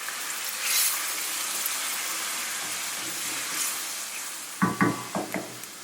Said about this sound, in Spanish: se tira medio vaso de vino. Y se deja la salsa cocinar